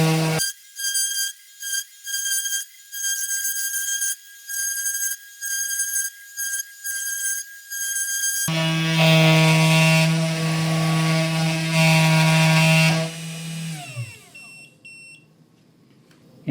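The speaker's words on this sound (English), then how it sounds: "A lot of vibration while it's carving," A Genmitsu mini CNC machine carving with its spindle running, loud tonal whining that pulses in short bursts, then holds a sustained multi-tone whine before winding down and fading near the end.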